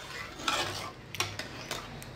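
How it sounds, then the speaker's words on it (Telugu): A utensil works through cooked tomato dal in a pot, giving soft scraping and a few sharper metallic clinks against the vessel, close and fairly quiet, with no talking. "మీరు కొంచెం ఇంకా ఉడకాలి అనుకుంటే ఇలా బాగా మెదుపుకోండి, చాలా బాగుంటుంది మెత్తగా"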